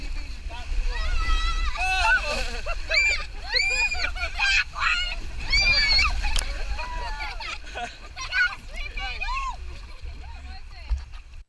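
Riders on the Thunder Canyon water ride at a theme park shriek and whoop over rushing, splashing water, a busy stretch of overlapping yells that thins toward the end.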